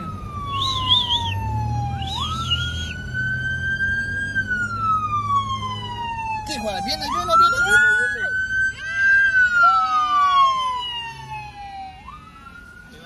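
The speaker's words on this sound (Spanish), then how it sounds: "ahí viene la ambulancia, ahí viene la ambulancia" An ambulance siren wails in traffic, its tone sweeping slowly up and down and growing louder as it approaches, with engine rumble underneath and people briefly talking nearby.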